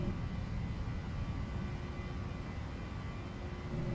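A Ryanair airliner taking off from London Southend, its engines giving a steady, loud broadband roar that holds evenly throughout.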